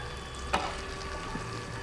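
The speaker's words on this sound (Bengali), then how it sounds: "এই মশলাটা দিয়ে একটু ভাজা ভাজা করবো" Spice masala fries in oil in a pan for chicken lababdar, a soft continuous sizzle with one brief sharp crackle or scrape of a spoon partway through.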